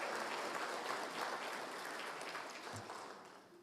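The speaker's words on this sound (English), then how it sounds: "So let's give them a nice round of applause." An indoor audience at a formal government apology ceremony claps steadily, a dense wash of applause that slowly fades toward the end.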